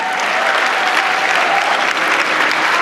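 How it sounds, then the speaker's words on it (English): A cosplay contest crowd at a fan convention applauds the contestants, giving dense, loud and sustained clapping that forms an even roar for the full length, with a faint tone humming underneath. "Give them a round of applause"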